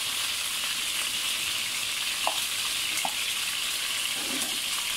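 Ginger and garlic fry in a pan for a chicken qorma, giving a steady, close sizzle throughout with a few small clicks and stirring sounds.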